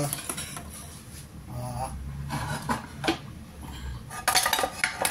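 Cooking pot being handled in a home kitchen while preparing dinuguan, with metal clanks, scrapes and clinks of pans and utensils over a steady background, ending in a busier clatter.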